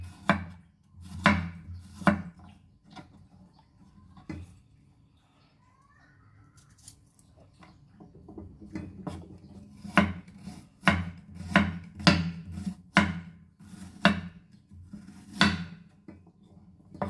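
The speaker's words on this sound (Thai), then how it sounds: "เราจะหั่นกระเทียมเป็นแว่นๆตามใจชอบแบบนี้ค่ะเพื่อน" Crisp knife chops on a cutting board, slicing garlic into rounds in irregular bursts of quick strokes with short pauses, close and clear, with no talking.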